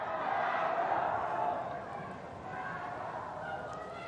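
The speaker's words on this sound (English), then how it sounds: "the locals give him a big cheer as he leaves the stadium area" Spectators along a para cross-country skiing course cheer an athlete leaving the stadium area, a broad crowd roar that swells early and then eases, with a commentator talking over it.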